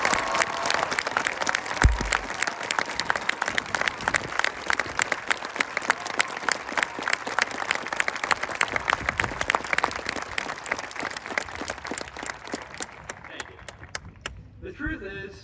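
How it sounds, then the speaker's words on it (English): Large audience at a Riverside high school graduation ceremony in Lake County, Ohio, breaks into sustained, dense applause that fills the hall for most of the stretch, with scattered voices mixed in before it thins out near the end. "So could you please have a round of applause?"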